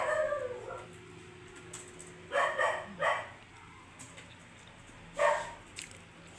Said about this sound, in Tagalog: Yung aking aso maingay sa labas.